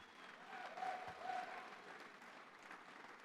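A gala crowd at the New York Young Republican Gala 2022 applauds during an award acceptance speech, a soft, distant, steady patter of clapping that swells briefly and then holds at a low level.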